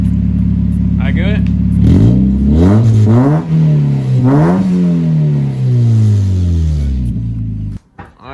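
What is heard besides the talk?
car engine revving after cold start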